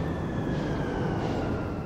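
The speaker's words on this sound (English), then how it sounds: "Okay, got some airplanes." Airplanes passing over the city in Splatoon 3, a steady broadband engine roar with a thin whining tone on top, sustained and fairly loud over the short stretch.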